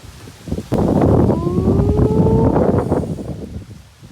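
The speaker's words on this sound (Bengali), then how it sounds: "ও কি যে দারুণ হাওয়া আর ঝিরিঝিরি বৃষ্টি" Strong wind buffets a rooftop garden during light drizzle, a loud, continuous broadband rush that swells and then slowly eases, with no voices.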